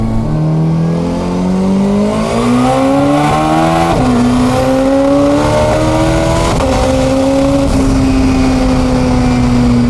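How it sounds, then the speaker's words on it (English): A 1300 hp SR20-powered Nissan 240SX on the street, its exhaust roaring loudly and continuously up through the revs with quick shifts that drop the pitch before it climbs again, heard close from inside the car. "The noise goes away, all you hear is the exhaust."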